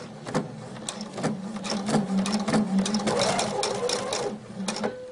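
A sewing machine stitches a tunic seam with a rapid, steady mechanical whirr. Close, loud needle clatter runs continuously throughout, with brief shifts in pace.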